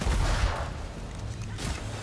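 Gun rat enemy in Warhammer Vermintide firing its gun, a dense continuous rattle of rapid shots, fairly loud and steady throughout amid game din.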